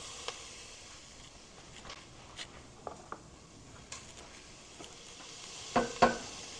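Four garlic cloves fry in a pan with a soft, faint sizzle, broken by scattered light clicks and taps of stirring and a louder cluster of clatter near the end.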